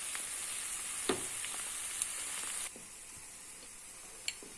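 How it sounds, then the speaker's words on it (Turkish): Onions frying gently in a pan on the stove for a green lentil and noodle soup, giving a soft, steady sizzle with a few small clicks and pops, quiet and close with no voices. "Burada soğanımı kavurmaya devam ediyorum."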